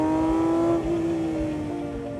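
A 2024 Porsche 911 ST sports car accelerating, its engine holding a loud, steady high-pitched tone close by that eases slightly as it continues.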